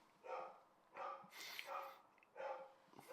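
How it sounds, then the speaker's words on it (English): A dog barks repeatedly, a handful of sharp barks in uneven bursts, fairly distant and faint. "the dog stopped barking"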